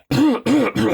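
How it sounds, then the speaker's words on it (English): A man coughs hard three times in quick succession, loud and close, each burst harsh and raspy with short gaps between, no talk around them. "That was a cough and a half."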